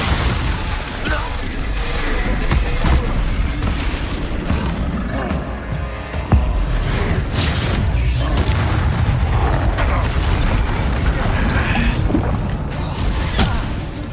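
Spell blasts and booming bursts from Confringo in Hogwarts Legacy, a loud, continuous stretch of battle noise with repeated impacts and clatter, a voice faintly present beneath the action.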